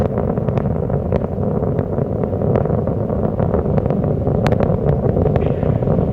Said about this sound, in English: Engines throttling down as Atlantis prepares to maneuver through the area of maximum dynamic pressure on the vehicle in the lower atmosphere.